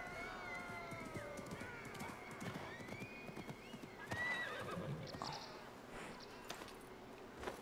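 A horse in a video game whinnies in high rising neighs while hooves clip-clop steadily underneath, the sounds faint overall and heard alone.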